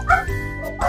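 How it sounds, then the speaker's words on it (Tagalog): Pet dogs bark in quick, close yips and bow-wows, two or three sharp barks inside a second, with a whimpering edge and no talk. "nagkakagulo na naman yung mga alaga kong aso"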